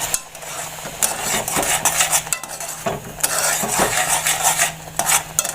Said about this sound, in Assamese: এবাৰ লৰাই দিওঁ